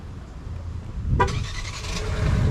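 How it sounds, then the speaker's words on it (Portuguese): A Jeep Renegade Longitude Night Eagle 2025 engine starts by remote, with a brief cranking burst and then a steady idle hum continuing close by, without any talking. "para mostrar para vocês a partida remota do motor"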